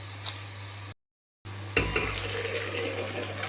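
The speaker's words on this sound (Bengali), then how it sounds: "ডালটা ভালো করে ফুটে গেছে" Lentil dal boiling in a pot, a steady bubbling sizzle with a low hum beneath, briefly cut to silence and then resuming slightly louder with a stir.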